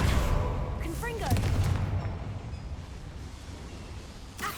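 A fiery Confringo blasting spell in Hogwarts Legacy, set inside a mine, erupts in a broad rumbling burst early on that fades into a low decaying roar, with a brief sharp flare near the end.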